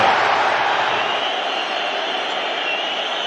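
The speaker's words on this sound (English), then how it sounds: "The Anfield crowd trying to alert Gakpo to that" Anfield football crowd roaring and shouting in a dense, steady wash of massed voices, loud and continuous throughout with no clear breaks.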